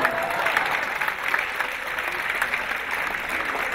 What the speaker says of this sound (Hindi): ताली बजा सकते हैं अगर आपकी इच्छा हो।